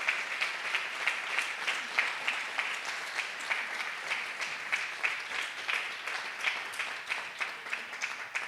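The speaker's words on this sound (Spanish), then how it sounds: "vamos a darle un fuerte aplauso a Dios, porque para Él es la gloria y la honra" A church congregation applauds at a Sunday celebration service, a dense, steady round of clapping that carries on for the whole stretch with no voices over it.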